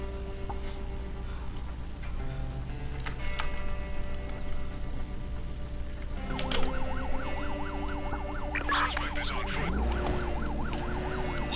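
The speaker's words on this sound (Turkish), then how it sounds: "Polis arabası. Ne yapacağız lan polis arabası?" A police car siren wails in the open-world video game American Fugitive, its rising and falling tone starting partway through over a low ambient hum and game effects, with no one speaking.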